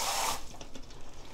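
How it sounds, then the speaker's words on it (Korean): Gamtae seaweed being rinsed under a running kitchen tap, a brief, faint burst of flowing water followed by soft splashing and trickling close by. "이제 세 번 헹궜네"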